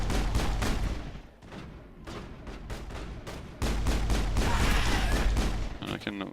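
Rapid bursts of gunfire from a new weapon in the video game Mass Effect, loud and dense volleys with brief lulls between them.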